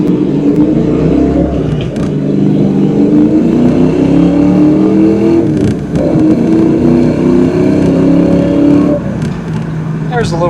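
A 1993 Ford Mustang Cobra pulls away from gravel, its engine note loud and close, climbing in pitch with brief dips between pulls.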